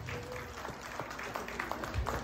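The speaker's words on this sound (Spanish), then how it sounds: "Un fuerte aplauso, por favor," Audience at a graduation and eighteenth-birthday celebration applauding a young woman, scattered moderate clapping from a small crowd in a room, somewhat soft and brief.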